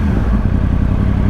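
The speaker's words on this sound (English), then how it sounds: "But listen to the burble. The burble that comes out of these cans, oh my god." A 2013 Yamaha R1 motorcycle's exhaust burbles loud and close, a dense, continuous low rumble with slight rough pulsing and no voices.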